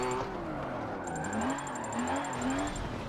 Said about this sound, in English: This thing just revs and revs for days